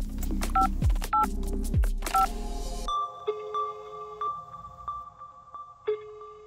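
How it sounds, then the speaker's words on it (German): A phone number is dialed for a call, a quick series of beeping keypad tones followed by electronic ringing and line tones, clear and alone without voices. "Ich denke, das sollten wir mal anrufen."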